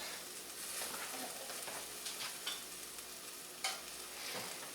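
Mole sauce with peanut butter sizzles in a pan while being stirred, a faint, steady fry with soft scraping and a couple of brief clinks, no talk.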